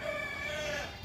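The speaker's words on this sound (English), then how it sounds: "All the ducks, the chickens, or shall we say the roosters, to be specific." A rooster crowing once on a muddy farm after rain, a loud, close, sustained crow with no talking over it.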